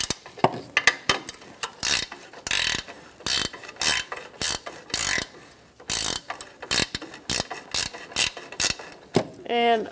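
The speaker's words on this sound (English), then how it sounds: "I'm going to start taking out these 2 nuts as well" A ratchet wrench clicks in rapid bursts while loosening nuts on the suspension of a 2007-2017 Ford Expedition during an air spring replacement, with repeated close, loud ratcheting strokes and short pauses between them.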